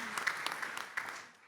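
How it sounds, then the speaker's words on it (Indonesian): A small audience claps for Indonesia at a futsal event. The applause is brief and fairly faint, with scattered individual claps that taper off within a second and a half. "tepuk tangan untuk Indonesia"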